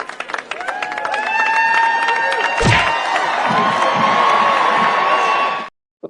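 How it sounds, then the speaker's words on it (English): Crowd cheering and shouting at a college football game, loud and continuous with whoops rising over the roar before it cuts off suddenly. "The funny thing is that the cheering goes louder after he falls."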